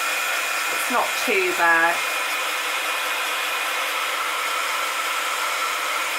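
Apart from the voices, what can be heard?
second-hand heat gun running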